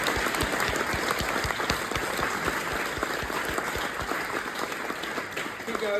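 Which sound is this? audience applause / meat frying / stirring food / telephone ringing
audience applause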